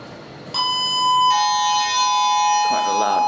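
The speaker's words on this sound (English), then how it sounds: "Quite a loud chime" A Schindler machine-room-less traction goods lift gives a loud, close chime: a bright sustained electronic tone that steps to a second ringing note and lingers.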